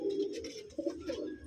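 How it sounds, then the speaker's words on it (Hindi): Malwai pigeons coo in soft, throaty murmurs, close and continuous, with a few overlapping calls. "ये सारे कबूतर उड़ने के लिए जा रहे हैं भाई के पास"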